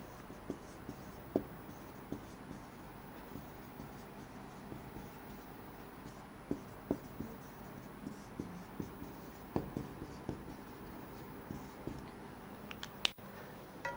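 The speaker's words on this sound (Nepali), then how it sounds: "म टपिक लेख्दै छु।" Marker or pen strokes scratching across a board or screen while writing the title for a class 8 geometry lesson on lines and angles, soft intermittent taps and squeaks over a steady room hiss.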